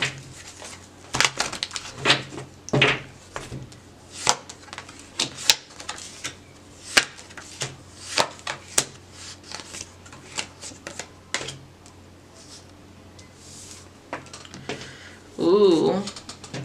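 Tarot cards are shuffled and drawn in a rapid series of crisp riffles and snaps, some louder than others, close by and quiet between bursts, ending with a short spoken bit.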